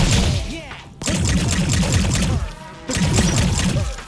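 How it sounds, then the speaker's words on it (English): Dense gunfire and crashing impacts in the alien-invasion shooter video game High on Life, loud sustained bursts in three waves with short pauses between them, with voices mixed into the chaos. "they're shooting at us"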